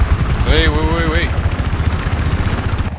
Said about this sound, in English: Helicopter in front of us.